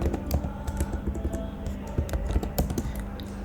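Quick, continuous clicking of a computer keyboard as code is typed, close and moderately loud with irregular bursts of keystrokes and no speech.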